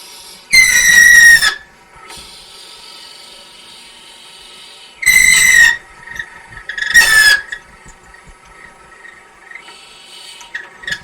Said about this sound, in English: I have a piece of tape marking exactly how deep I need to drill that hole